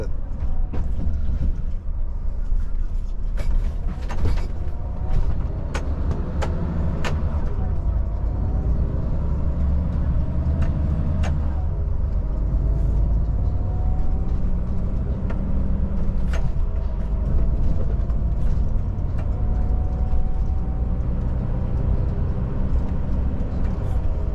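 A brand-new Volvo FH truck driving, with a steady deep engine and drivetrain drone and rising whine as it works through gears, plus occasional clunks and rattles from the cab and suspension, loud and continuous throughout.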